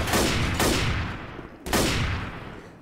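Gunfire in the zombie shooter Left 4 Dead: two heavy bursts of shots, each with a sharp loud onset and a long echoing decay, the second following after a short pause.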